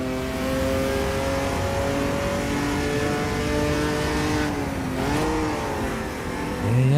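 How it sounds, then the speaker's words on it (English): An Opala 86 stock car in the AMS2 racing sim tearing down the main straight at Goiania, its engine droning at high, steady revs with layered harmonic whine, dipping briefly at a gear change before climbing again. "hurling down the main straight as fast as his little stock car will go"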